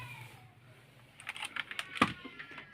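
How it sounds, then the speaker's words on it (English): Computer keyboard in an arcade cabinet setup being lifted and handled, giving a short cluster of plastic clicks and rattles that ends in one sharper knock, close and fairly quiet. "Lift up my keyboard."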